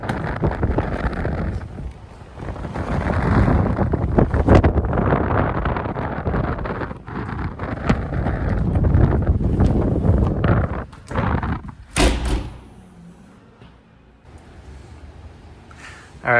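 Strong wind gusts hit during a March Nebraska blizzard, a loud roaring buffet that swells and fades, with heavy rumbling microphone noise and a sharp gust burst near the end before it eases to a quieter rush.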